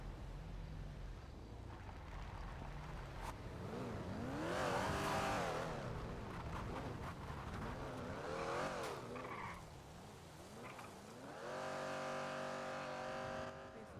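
A car engine revs and roars in the GTA V NoPixel roleplay game, rising and falling in pitch across several bursts with tire squeals and skids, loud and continuous throughout.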